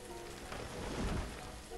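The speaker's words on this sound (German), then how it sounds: "Jetzt regnet's wieder." Rain falls in the video game Banished as a soft, steady hiss, faint and continuous, with a low rumble swelling briefly in the middle.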